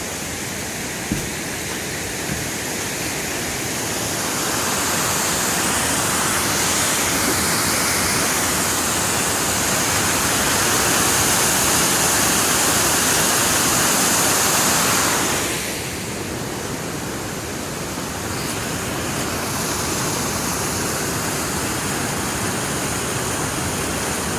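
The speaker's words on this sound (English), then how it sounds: "A lot of waterfalls through here." Flanagan's Branch Falls running full along a rail trail in Babcock State Park, a steady broadband roar of falling water that swells louder through the middle and dips briefly before continuing, with no voices.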